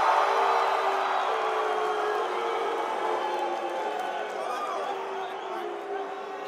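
A large live audience at a Warlords of Draenor gaming event cheers and whoops for the Alliance, a dense sustained roar that slowly eases off over several seconds.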